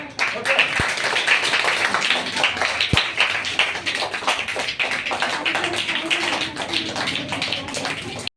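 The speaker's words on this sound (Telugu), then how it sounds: "చప్పట్లు కొట్టండి" A crowd at a birthday event donating a sewing machine to a poor woman claps in quick, scattered bursts of sharp slaps, with people talking over the applause.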